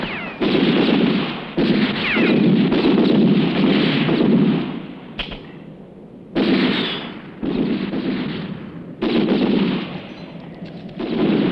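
Gunfire crackles through a western movie scene, with rapid repeated shots and bursts echoing in loud clusters separated by short gaps.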